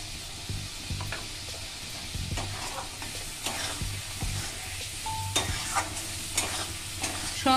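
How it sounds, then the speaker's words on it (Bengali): Previously fried potatoes are stirred into a sizzling, spiced Bengali fish-roe fritter curry in a pan, with continuous frying hiss and repeated scraping stir strokes close up. "এর মধ্যে আমি ভেজে রাখা আলুগুলো দিয়ে দেব।"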